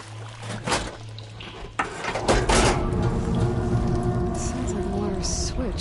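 Water rushing and flowing through machinery after its flow is switched in the video game Horizon Forbidden West, a steady broadband surge building after mechanical clunks and continuing loudly, with someone speaking over it.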